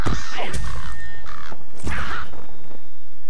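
Crows caw in the Lord of the Rings Online game, several loud, close, harsh calls spaced apart, with a low tonal hum underneath.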